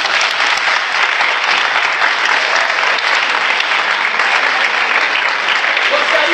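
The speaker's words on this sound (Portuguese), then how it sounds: "Vamos aplaudir?" A crowd at a charity raffle event at Montanha da Esperança claps loudly and continuously, a thick, even wash of applause with no let-up from start to finish.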